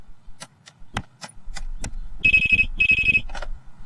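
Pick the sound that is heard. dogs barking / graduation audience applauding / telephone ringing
telephone ringing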